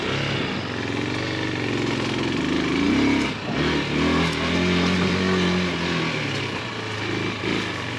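Carbureted engine of a Bashon Brozz Recon motorcycle running at a slightly high warm idle, a steady close, loud drone with a brief dip partway through, no speech.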